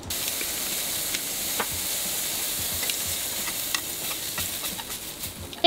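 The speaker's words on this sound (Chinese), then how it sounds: "我们继续煎肉。" Meat frying in a pan at home, a steady close sizzle and hiss with faint pops and crackles spread throughout, ending on a brief knock.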